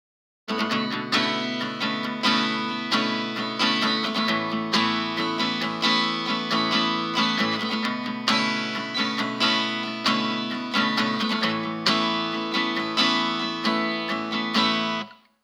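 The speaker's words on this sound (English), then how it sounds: "First up, we'll go for an acoustic guitar." Acoustic guitar strummed steadily through a payphone microphone, thin and lo-fi, with a boxy, band-limited tone and constant chord strokes throughout.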